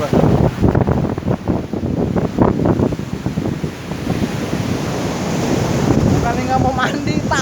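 Big ocean waves breaking on a beach, loud churning surf and rushing water mixed with heavy wind buffeting the microphone, steady and close throughout.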